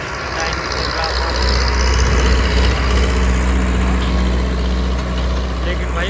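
A Digitrac PP 46 tractor with a new harrow runs in high gear across a field, its engine a loud, steady low drone that holds throughout, with no obvious strain and voices talking over it.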